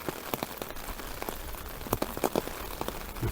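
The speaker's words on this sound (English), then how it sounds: "still raining heavily" Steady heavy rain pattering on surfaces during river flooding at Shipston-on-Stour, Warwickshire, dense and continuous, with occasional louder drips and splashes close by.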